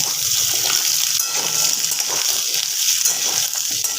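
Finely chopped mixed vegetables fry in a pan with cumin and dried chilli, giving a steady, loud sizzle and crackle throughout with slight swells as they are stirred.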